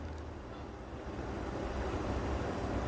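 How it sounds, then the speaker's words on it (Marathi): A kitchen mixer grinder whirs steadily while blending cashews and almonds into a paste for matka kulfi, a continuous low, dense motor rumble at moderate volume with no voices. "हे मी दोन्ही काजू आणि बदाम मिक्सरला पेस्ट करून घेणार याची"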